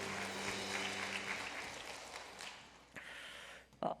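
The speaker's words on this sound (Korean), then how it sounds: "하나님 앞에 영광의 박수 올려드립니다" Congregation clapping in praise during a Sunday mission worship service at a Korean church, a broad wash of applause that swells, thins out and ends with a few last scattered claps.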